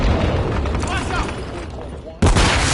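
A flashbang grenade detonates in Call of Duty Modern Warfare 3, a sudden loud broadband blast near the end, cutting in after a stretch of dense, noisy gunfire-like game sound.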